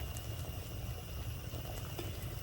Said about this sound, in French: Regardez la soupe comment elle commence à bouillir